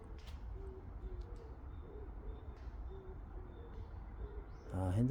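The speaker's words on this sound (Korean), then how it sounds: "요게 아마 그 맷비둘기 소리일 거예요" An oriental turtle dove coos in a lush forest near the Han River, its soft low notes repeating steadily at a distance over a rustling outdoor background, with a brief louder sound at the very end.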